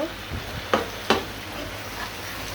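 Leafy greens cooking in a small, overfilled kadai, giving a low steady sizzle broken by a few short stirring scrapes near the mic, with no talking.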